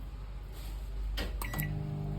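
A microwave oven's control panel gives a few short electronic beeps as the cooking time is keyed in for defrosting, set against a steady background hum.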